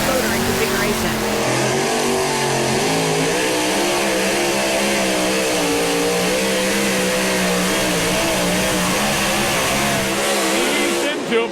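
A Chevy Silverado two-wheel-drive pulling truck with a new motor roars at a truck pull in Henry, Illinois, its engine revving loud and sustained, rising and wavering in pitch throughout with crowd and announcer noise underneath.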